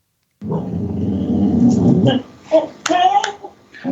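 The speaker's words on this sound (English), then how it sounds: "There goes my dog." Dog growling then giving short barks nearby, a rough sustained growl followed by a few sharp yaps and vocal bursts, with a voice mixed in.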